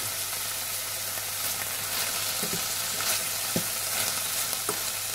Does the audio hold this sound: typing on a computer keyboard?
no